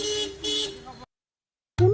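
A car horn honks in a couple of short, loud blasts, cuts to silence, then sounds again abruptly, with voices around it.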